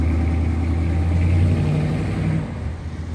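A 1972 Chevrolet Impala convertible with an LS3 engine swap runs nearby, a steady, loud low rumble that eases off slightly toward the end.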